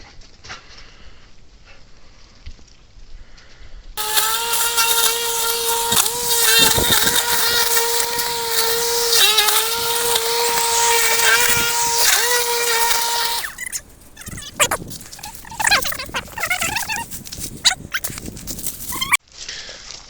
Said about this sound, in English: I'm going to take this mower and just kind of clear a little area out